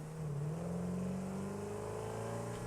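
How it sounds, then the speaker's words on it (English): A car engine drones steadily and loudly, its pitch holding then slowly creeping upward, a revving vehicle motor in the video game Satisfactory. "A little bit of a sound bug with the cars."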